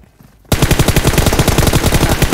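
Rapid automatic gunfire from a PUBG Mobile match bursts in after a brief quiet moment and keeps going as a loud, dense, steady stream of shots.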